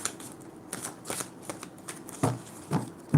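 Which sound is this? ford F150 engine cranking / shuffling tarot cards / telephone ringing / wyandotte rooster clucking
shuffling tarot cards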